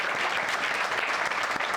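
Audience at a Hindi church service applauding the pastor, dense continuous clapping from many hands, loud and steady throughout with no voices rising above it.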